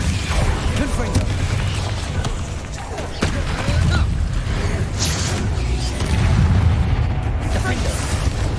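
A Confringo blasting spell in Hogwarts Legacy sets off repeated booming bursts and crackling impacts amid game combat, with a voice speaking over the action.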